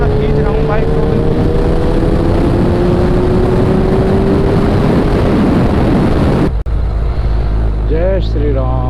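A Suzuki Hayabusa motorcycle engine revs and pulls away on a highway ride, a loud continuous drone with rising pitch and heavy wind roar, then a sudden cut before a brief voice.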